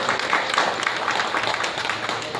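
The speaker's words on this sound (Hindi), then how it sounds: "करताली दे समस्ते" Audience applause at the opening of an Odia opera drama performance, a steady dense clapping throughout, fairly loud and close, with no speech over it.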